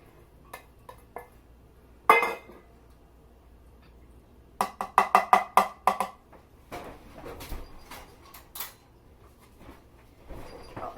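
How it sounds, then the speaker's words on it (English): Watermelon gazpacho ingredients tipped into a small blender or food processor in batches, giving a sharp clatter, then a quick run of knocks and clinks against the container, with softer thuds and rustles in a quiet kitchen. "you're going to get your blender or your food processor and just dump everything in"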